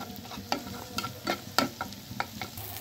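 Scrambled egg stirred in a hot pan while making prawn fried noodles: irregular scraping strokes of a spatula over a steady soft sizzle, close and moderately loud, with no voices.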